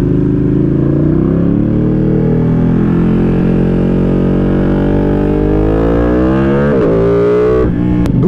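A Ducati Panigale V2 motorcycle engine revs loud and close, its pitch climbing steadily through a long pull before a sharp blip and drop near the end, with no talk over it.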